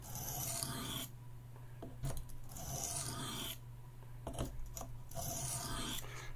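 A Buck 110 folding knife blade being sharpened on a lubricated stone, several drawn scraping strokes separated by short pauses, soft and close over a steady low hum, with no talking.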